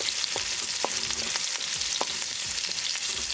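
Garlic, ginger and green chilies stir-fry in a hot pan for a vegetable blend, a loud steady sizzle with repeated scraping stirs, close by and without speech.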